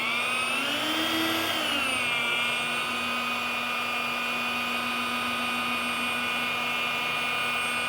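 A rotary polisher with a waffle pad works a car's paint, giving a loud, steady high whine that dips slightly in pitch early on, then holds constant and close.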